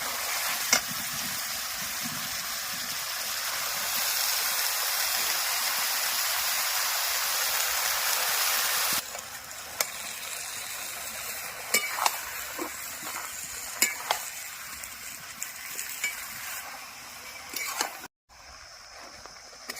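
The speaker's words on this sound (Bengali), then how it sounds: "মাংসের উপরে মশলাগুলো দিয়ে ভালো করে কষে নিয়েছি এবার ধুয়ে রাখা শাক দিয়ে দেব" Washed ivy gourd (telakucha) leaves go into a pan of meat already fried with spices; a loud, steady sizzle drops abruptly and gives way to quieter frying with scattered sharp clinks of stirring, no talk.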